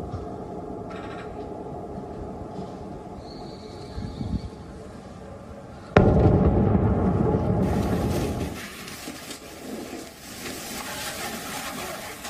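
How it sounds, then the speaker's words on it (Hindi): A loud explosion from a missile attack in Lviv, Ukraine, strikes suddenly midway with a sharp blast and heavy rolling rumble, following quieter distant thuds and steady background noise. "लवीव में एक के बाद एक जोरदार धमाके हुए हैं।"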